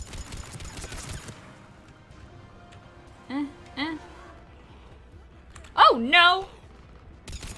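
Gunfire in the sci-fi shooter game Mass Effect 3: a few short bursts of shots ring out between stretches of quieter battle ambience, with a voice cutting in over the noise.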